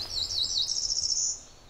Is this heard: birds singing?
yes